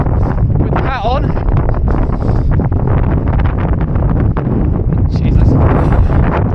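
Strong wind buffeting the microphone outdoors at a 10K road race, loud gusty rumble and rustle dominating throughout, with a voice speaking briefly underneath.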